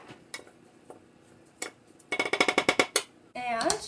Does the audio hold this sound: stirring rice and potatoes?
yes